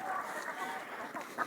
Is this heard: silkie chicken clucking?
yes